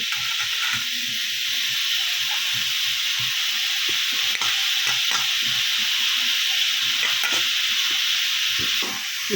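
Cabbage and potatoes with spices stir-fried in a pan over a high gas flame, a steady loud sizzle under frequent scraping and clinking stirs from a spoon, close by, with no talking.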